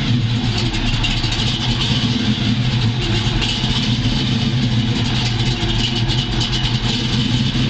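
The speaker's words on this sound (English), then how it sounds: "I'll start the car up for you right now." A 1969 Chevrolet Camaro SS with a 750 HP engine running close up, a loud, steady rumbling idle with deep low-end throb and no voices.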